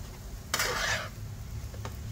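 Semolina roasting in ghee in a pan on medium heat gets stirred with a quick, soft scraping sweep, one brief burst over a faint low sizzle, with no voices.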